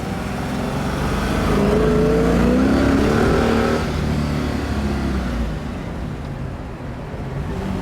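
A 1967 Shelby GT500 with a 427 engine and multiple carburetors runs loud and close. Its deep, rough roar swells and then eases slightly over several seconds, with no talking.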